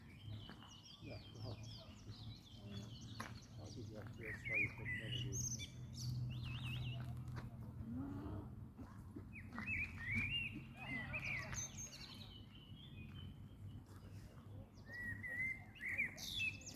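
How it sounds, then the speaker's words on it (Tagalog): Bird singing at dusk, repeated bright chirps and warbling phrases at moderate distance, over a low steady background hum, with a person talking quietly at times. "Tapos yung ibon kumakanta habang ako nagtitake ng video."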